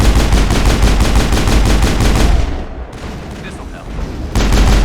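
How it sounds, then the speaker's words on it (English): Turret gunfire in Mass Effect: a loud, rapid stream of shots, a brief lull partway through, then the firing picks up again at full strength. "That turret can punch some nasty holes."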